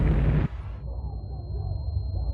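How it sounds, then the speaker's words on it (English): A hydrogen explosion at a nuclear reactor unit: a loud, deep blast bursts out at once and cuts off after about half a second, leaving a low rumbling roar that carries on underneath. "Reactor 3 is rocked by a hydrogen explosion similar to that in Unit 1."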